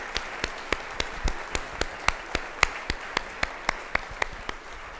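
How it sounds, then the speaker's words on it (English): An audience at an evening panel program on near-death experiences gives a round of applause, heard as a steady run of evenly spaced, crisp claps that stay moderately loud for several seconds. "Could we give all of them a big round of applause?"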